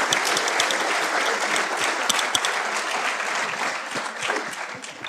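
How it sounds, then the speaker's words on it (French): An audience applauds a volunteer picked at random at a magic and mathematics talk at a tech conference, steady dense clapping from many hands filling the whole stretch at even loudness. "On va applaudir notre valeureux volontaire choisi par le hasard."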